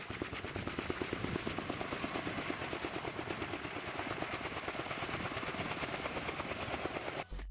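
K-MAX helicopter flying, with a fast, steady rotor chop over a broad whooshing roar that stays close and unbroken, ending in a brief bump.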